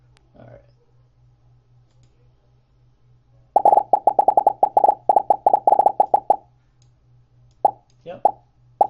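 Scratch pinball game's built-in pop effect fires as the ball strikes a bumper: a rapid burst of about fifteen sharp, popcorn-like plops clustered together, then a few scattered pops, over a low steady hum.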